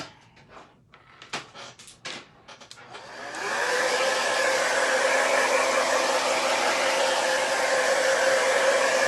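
A few clattering handling knocks come first, then a hair dryer switches on and runs with a loud, steady whoosh to dry freshly painted pieces.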